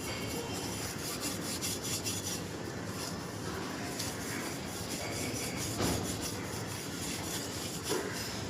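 A Pitambari-polished item rubbed hard with a dry cloth makes a continuous rasping scrub in quick back-and-forth strokes, close and steady, with a few louder bumps and no talk.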